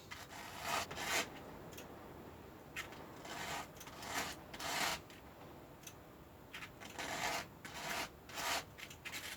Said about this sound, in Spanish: Y lijamos dos costaditos también.